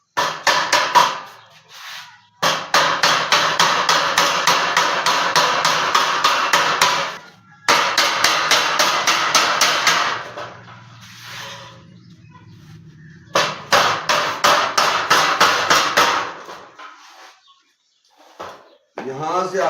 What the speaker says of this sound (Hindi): क्या करना है, ठोक देना है।